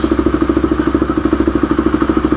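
Sports motorcycle engine, a 3GP sportsbike, idling steadily while warming up, with a close, loud, rapid rhythmic pulsing throb and light mechanical clatter running continuously throughout, no voices.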